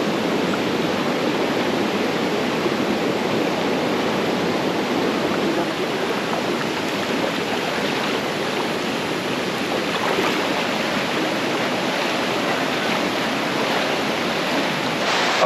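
River water rushing steadily over rocks at the Sungai Chiling hiking crossing near Kuala Kubu Bharu, a loud continuous broadband flow with no voices.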